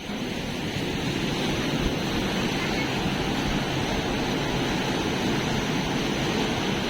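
Water rushes steadily below the gates of the Priyadarshini Jurala dam, a loud, continuous broadband roar that does not let up.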